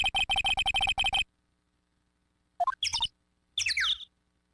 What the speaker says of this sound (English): Are those birds I hear?